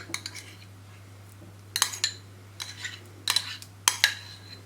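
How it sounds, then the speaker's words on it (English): Spoon scrapes and clinks against a microwavable bowl as chopped Maltesers mixture is transferred, with a few distinct metallic taps and scrapes in short bursts over a quiet background hum. "just spoon it into a microwavable bowl"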